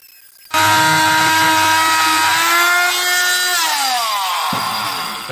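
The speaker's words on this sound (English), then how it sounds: "you actually have to cut it open using, what are these called, a handyman tool" A power tool cuts into the plastic case of a 7.2 Ah lead acid battery, starting abruptly and whining loudly and steadily, its pitch sagging as it bites, then easing slightly before the end.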